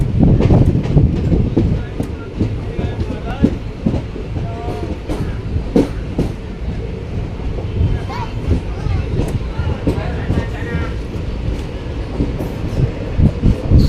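The 11274 Vindhyachal Express rumbles at a station with clattering wagons and rhythmic clickety-clack, loud and close, with wind buffeting and people talking throughout.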